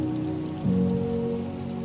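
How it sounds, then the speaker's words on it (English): Steady rain pours down outside a window, a continuous close wash of patter with a brief louder swell partway through and no voices. "the rain is pouring down outside my window."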